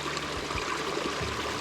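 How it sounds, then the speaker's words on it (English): Water runs off an alpine hillside in misty, rainy Tasmanian high country, a steady broadband rush of small streams and trickles heard close and continuous with no voices. "the amount of water running off this hill is quite incredible"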